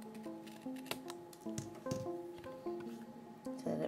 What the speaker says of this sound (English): And then I'm just going to trim this little excess that I left so